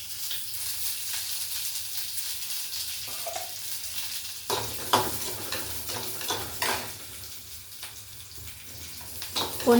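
Onions sautéing in a pan make a continuous soft hiss that turns busier halfway through, as stirring scrapes and clatters break in, with no talking.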